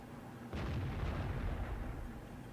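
Tank cannon fire in World of Tanks lands as a single heavy boom that swells suddenly and rumbles on, loud and broad against a quiet game background.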